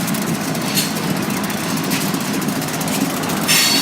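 Great Lakes Central 398 runs along the rail line in Traverse City, Michigan, as a steady, broadband rumble and rush that stays loud and continuous throughout.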